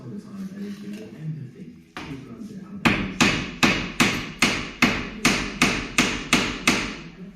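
A Toyota Aygo's metal suspension arm is struck by a hammer in a steady series of about a dozen sharp, evenly spaced blows, preceded by lighter taps and low background noise.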